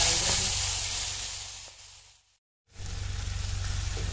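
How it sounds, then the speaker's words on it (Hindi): Tomatoes hit a hot pan of fried red chilies with a loud, steady sizzle that cuts out briefly, then resumes just as strongly, close and continuous with no talking. "टमाटर इसमें हम डाल दिए"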